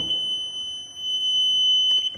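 An electric flood alarm built as a school science experiment, a steady high-pitched buzzing tone sounding continuously and fairly loud, alone without talk.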